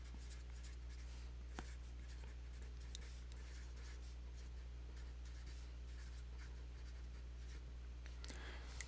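Hand writing of notes during a math lecture on sets, faint pen or marker strokes scratching across a board or page over a steady background hum, with a couple of sharper ticks and no voices.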